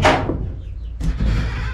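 A loose door bangs with a single solid thud near the start, followed by a second knock or rattle about a second later, close and fairly loud.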